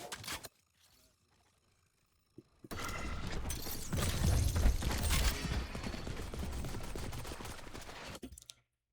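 Weapon fire in Valorant, faint and sparse at first, then a loud, sustained stretch of rapid automatic shots and impacts in an unbroken burst that cuts off near the end.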